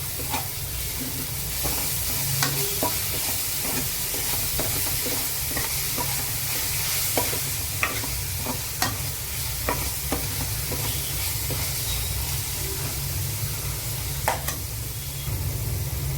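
Tomato pieces frying in a pan for Korramena fish curry, a steady close sizzle with repeated sharp scrapes and clicks of a spatula stirring throughout, no voices.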